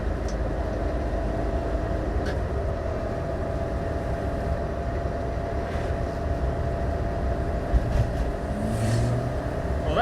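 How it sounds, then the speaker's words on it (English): A noisy Toyota Starlet passes by outside, its engine a steady, loud broadband roar that swells slightly toward the end while heard from inside another car. "That was a noisy Toyota Starlet."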